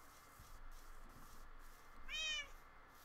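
A cat in the Minecraft video game gives a single short, clear meow, faint against a quiet background hum.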